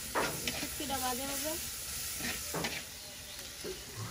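Onion and garlic frying in a pan give a steady low sizzle and hiss, close by, with a few stirring scrapes. Voices talk faintly over the frying.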